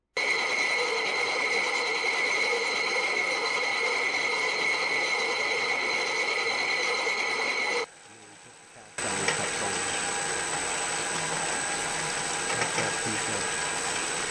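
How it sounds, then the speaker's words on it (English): Grinding machine shaping a quartzite stone into a sphere: a steady, loud mechanical whir with tonal hum that briefly cuts out for about a second, then resumes just as before. "Got to keep grinding to get rid of that imperfection to make it perfect."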